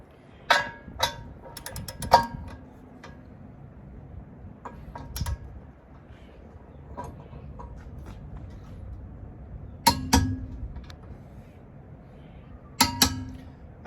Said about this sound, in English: take our torque wrench and let's set this to 110 foot-pounds